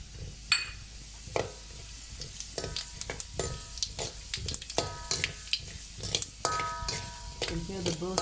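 Fennel seeds burst and crackle in hot vegetable oil, giving sharp irregular pops and ticks over a soft, close sizzle, with no one speaking.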